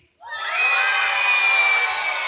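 A group of people, including children, shouting loud cheers together, a sudden burst of whoops and yells that rises quickly and holds strong and close for about two seconds.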